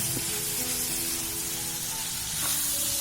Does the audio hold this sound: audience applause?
no